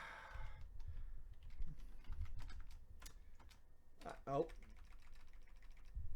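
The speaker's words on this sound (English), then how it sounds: "Fucking wireless keyboards, man." Typing on a wireless computer keyboard clatters in quick, uneven bursts of key taps, close and fairly quiet, with a brief spoken exclamation partway through.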